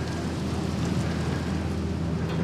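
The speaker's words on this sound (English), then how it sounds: "it is freezing cold, the wind's blowing and it's got driving 45-degree rain" Heavy rain, driven at an angle by cold wind, hisses steadily across Bondi Beach on a freezing Christmas morning, a dense wash of sound without pause or voices.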